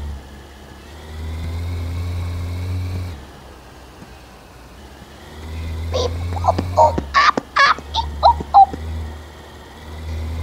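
A car engine idles with a low steady hum in a taxi-driving video game, then revs in a burst of sharp, uneven roars toward the end, loud and close.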